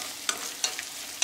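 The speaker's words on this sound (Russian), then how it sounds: "И вместе с фаршем даем нашему перцу протушиться" Ground meat and hot pepper fry in a pan with a steady, close sizzle, broken by a few scraping stirs.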